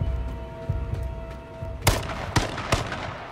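Gunshots ring out from behind in the H1Z1 battle royale game, a few sharp loud cracks spaced about half a second apart over a low background rumble.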